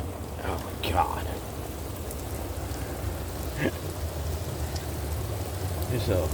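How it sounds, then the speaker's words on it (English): During a flash flood, water pours into a house with a steady rushing hiss and splashing, close and continuous, while people talk briefly over it. "look at it pouring off the TV."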